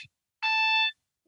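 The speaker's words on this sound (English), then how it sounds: "Which device is that's beeping, by the way?" A phone alert from a diabetes management setup sounds one steady electronic beep of about half a second, clear and fairly loud, with faint brief noises before and after and no talking.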